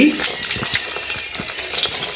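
Pakan pitha crackles and bubbles in hot mustard oil in a steady frying hiss, with small pops and spatters scattered throughout at close range.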